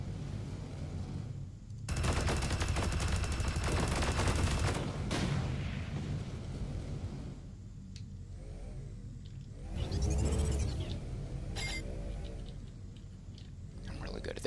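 Gunfire in the video game Sublevel Zero, a sustained burst of rapid weapon fire followed by rumbling blasts and sweeping electronic effects, with quieter stretches between and a voice speaking at times.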